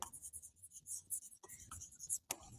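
A pen scratches across paper in quick, light strokes, close and fairly quiet, with short pauses between bursts.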